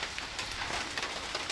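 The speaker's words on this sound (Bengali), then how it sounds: "অনেক বৃষ্টি হচ্ছে, মানে খুব জোরে না, কিন্তু একটানা হচ্ছে" Steady morning rain, not heavy but continuous, falling outdoors near a house, an even hiss with scattered close drops and light splashes, fairly faint and with no voices.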